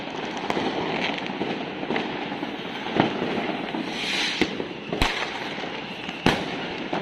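Fireworks go off over a garden in Wintersdorf on New Year's Eve, sharp cracks and bangs at irregular intervals over a continuous crackling, fizzing wash of distant explosions.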